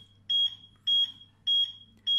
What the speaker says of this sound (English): when it's higher than 130, obviously it's making alarm